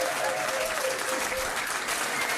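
A pub crowd at a trivia quiz night at The Granta bursts into dense, loud applause that holds steady for a couple of seconds with no voices over it.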